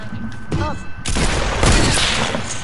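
Video game gunfire: a burst of rapid shots erupts and keeps going after a short lead-in with a player's voice, dense and loud close-up firing for the rest of the moment.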